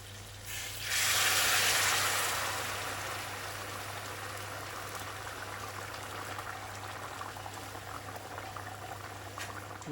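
Water poured into a pot of simmering beef bhuna curry, a loud rushing splash for about two seconds that settles into steady bubbling and sizzling, with a low constant hum underneath throughout.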